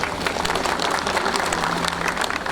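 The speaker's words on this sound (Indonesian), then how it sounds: "Tepuk tangan untuk beliau" Applause from the audience at the opening of a solo exhibition by the painter Srihadi Soedarsono at the Galeri Nasional, a dense, continuous patter of many hands clapping close by, alone and without talk.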